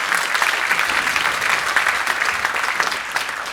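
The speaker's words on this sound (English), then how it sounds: "Big round of applause for Mason Collins." An audience at a jazz camp student performance claps, a dense, steady burst of applause close by that holds at full strength for a few seconds with no speech over it.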